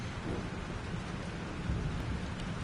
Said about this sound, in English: Holy shit. This storm is real.